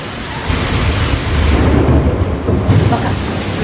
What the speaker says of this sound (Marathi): विजा खूप कडकडू राहिले आहे खूप विजा ढग गडगडू राहिले